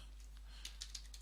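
A few soft, separate keystrokes tap on a computer keyboard, very quiet and close over a low steady hum.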